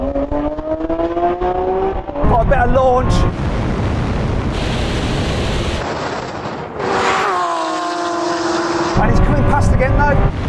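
Loud engines of a Lamborghini Aventador Ultimae and SVJ roar and rise through the gears as they launch hard in a drag race, with wind buffeting and a second engine surging past partway through.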